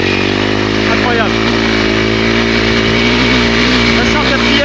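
A 2022 Honda CRF300L motorcycle engine pulls hard in fourth gear, its loud, close, rising drone climbing steadily in pitch throughout, with rushing wind noise.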